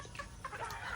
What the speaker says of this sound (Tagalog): Ang ako ang mga chicken.